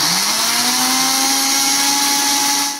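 An electric mixer grinder whirs steadily and loudly while grinding a paste of coriander, green chili, ginger and coconut with a little water, a continuous high motor whine with rising pitch that cuts off at the end.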